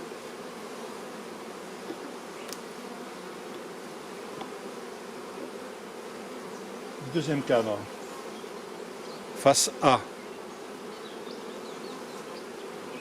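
Honey bees buzz softly and continuously around an open hive during a frame-by-frame inspection of a colony with a honey super. The hum stays steady under a few brief handling knocks, and a voice speaks briefly.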